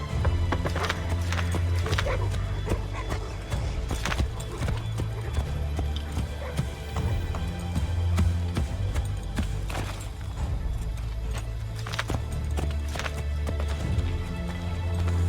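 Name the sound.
horses galloping in video game Assassin's Creed III Remastered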